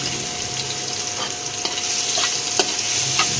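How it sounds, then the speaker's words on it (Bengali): Sliced onions hiss and sizzle steadily in hot oil in a frying pan, cooked as the base for a quail roast, with occasional stirring scrapes and soft pops cutting through the continuous close-up crackle. "কোয়েল পাখি রান্না করার জন্য ফ্রাই প্যানে তেল দিয়েছি। এখন পেঁয়াজ দিয়ে দিচ্ছি।"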